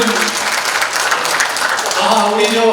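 Applause from an audience at a book launch event, a dense steady wash of clapping that fills the whole stretch, loud and close, with a rising swell toward the end.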